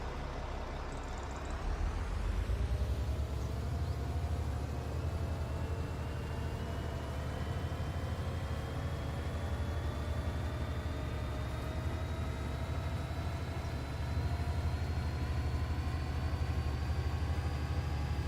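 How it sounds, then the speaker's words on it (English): A tractor engine in Farming Simulator 25 idles up and revs, a steady low mechanical drone with slowly rising harmonic tones, continuous and fairly loud throughout, no talk. "Sounds are weird on this tractor."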